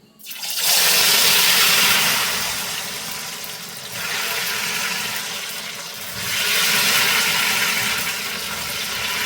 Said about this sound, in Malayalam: ഇനി അതിലേക്ക് അരിഞ്ഞ് വെച്ച ചക്കച്ചോള് ചേർത്ത് കൊടുക്കുകയാണ്